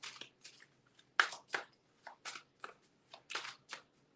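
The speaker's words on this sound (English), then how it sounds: "I'm shuffling really good." A deck of tarot cards is shuffled in quick, irregular riffling bursts, each a crisp papery flutter separated by brief pauses, close and fairly quiet.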